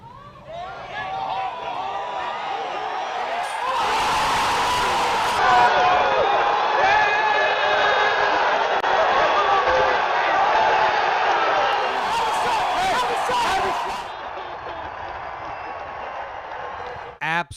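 A disc golf crowd erupts after a clutch putt, a loud, sustained roar of cheering and shouting that swells for about ten seconds before settling.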